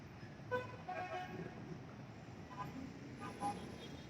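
Evening road traffic on a busy Nairobi highway, a steady roadway rumble with a few short car horn toots rising above it at scattered moments. Faint voices drift underneath.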